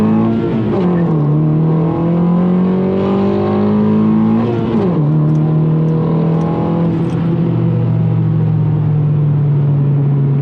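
A 9th generation Honda Accord with a Ktuner tune accelerates hard through the gears, the engine note climbing loud and close, dropping at each shift, then pulling steadily again.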